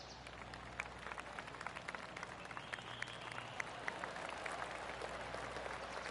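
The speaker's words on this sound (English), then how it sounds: "Oh, golf clap" Polite golf-course applause from a gallery in the PGA Tour 2K23 video game, a faint, steady patter of many hands clapping throughout without any voices.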